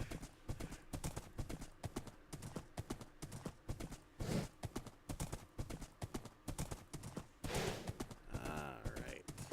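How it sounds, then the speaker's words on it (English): Horse hooves gallop in a video game in a fast, even clip-clop rhythm that keeps going, fairly quiet, with a short whinny near the end and brief game sounds over it. "Got me a horse with unlimited endurance."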